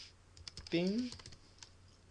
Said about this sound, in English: So you're going to go to Start, go here, and type in snipping